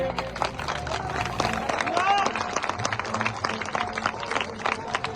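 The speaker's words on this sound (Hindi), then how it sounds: "उनके लिए शानदार ताली आप लोग बजाइए" Crowd at a Ramlila closing event in Rudrapur clapping for the temple organising committee, a steady patter of many hands with speech and chatter mixed in.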